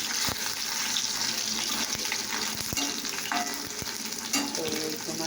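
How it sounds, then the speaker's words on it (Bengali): Fish eggs frying in a pan with salt and turmeric give a steady close crackling sizzle, broken by occasional scrapes and clinks of stirring, with no talk. "ভাজাটা প্রায় হয়ে যাচ্ছে।"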